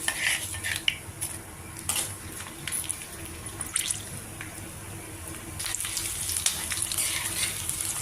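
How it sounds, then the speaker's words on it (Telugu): Garlic sizzles steadily in hot oil in a pan, with occasional clinks and scrapes of a utensil stirring; no voices. "ఇప్పుడు ఇందులో ఈ వేడి నూనెలో కొన్ని వేస్తున్నాను"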